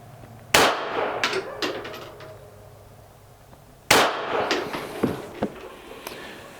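Two sharp gunshots from a Ruger Mark IV pistol firing Norma rounds at a 10-yard range, spaced about three seconds apart, each loud and close with a brief ringing decay and small clatter after.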